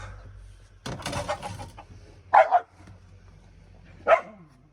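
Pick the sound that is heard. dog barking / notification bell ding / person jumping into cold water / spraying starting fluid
dog barking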